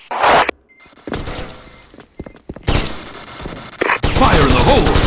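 Gatling gun firing in a video game: loud bursts of rapid fire broken by thuds and gaps, ending in a sustained roaring stream, with shouting voices mixed in.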